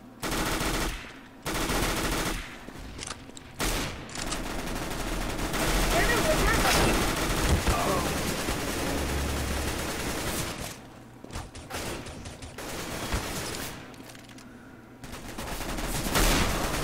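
Rapid automatic gunfire from the video game CS:GO rattles in dense, sustained bursts with brief pauses between volleys, loud and close, with a player's voice talking over parts of it.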